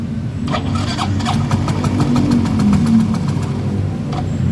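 A Yamaha Mio M3 scooter engine runs roughly close by, failing to idle, its low rumble uneven and sputtering rather than settling into a steady idle, with faint clicks above it.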